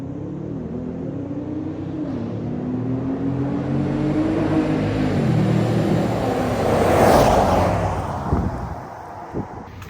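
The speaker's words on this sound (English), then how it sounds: "Can hear that supercharger wee wee wee just a little bit." Toyota Tundra pickup with a supercharger driving along, a steady engine drone with a faint rising and falling whine climbing over several seconds, fairly loud throughout with no talk.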